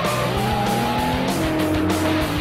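Superformance GT40 race car accelerating hard, a loud continuous engine roar with rising pitch and rhythmic gear pulses, close and unbroken.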